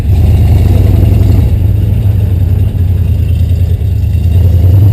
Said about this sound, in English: we got the yellow Jeep running